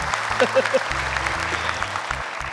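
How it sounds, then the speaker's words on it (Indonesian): Audience clapping for a young girl named Ica at a Quran memorization graduation ceremony in Indonesia. Scattered, rhythmic applause sounds under a steady low musical drone, with a few sharp accents early and a moderate, even level throughout. "Tepuk tangan untuk Ica."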